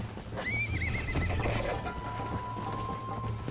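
Horse in the game Red Dead Redemption giving a loud, close whinny over rhythmic clip-clopping hooves at a gallop, with a steady low engine-like drone underneath.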